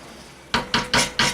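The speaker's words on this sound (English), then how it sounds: "Give it a stir to mix." A spoon scrapes and knocks around a pot while beans are stirred into chilli con carne, four loud, evenly spaced clanking strokes following a brief quiet start.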